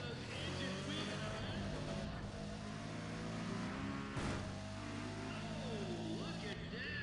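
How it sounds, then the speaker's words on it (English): Race cars in the Need For Speed ProStreet video game roar steadily as they speed off the line in a street race, a continuous engine drone that runs the whole time beneath an excited commentator's voice. "Listen to those engines."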